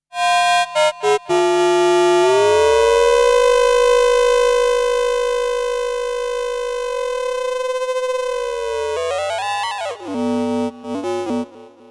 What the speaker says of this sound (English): So we start with the normal frequency modulation sound.